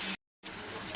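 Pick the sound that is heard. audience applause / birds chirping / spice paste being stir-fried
spice paste being stir-fried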